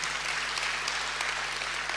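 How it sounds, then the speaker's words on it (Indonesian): A church congregation breaks into lively applause during a sermon, a brief, steady wash of clapping over a low hum of the room's sound system. "tepuk tangannya yang paling meriah"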